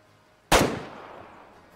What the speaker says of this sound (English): That's probably our farthest shot that we've taken with the 30-30